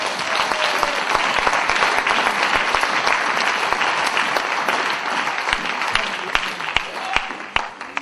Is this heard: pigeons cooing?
no